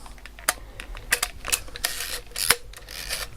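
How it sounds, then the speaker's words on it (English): Zenit 312m film camera being handled, with sharp mechanical clicks and ratcheting wind-on noises in irregular bursts close by, no speech. "And you click and wind on."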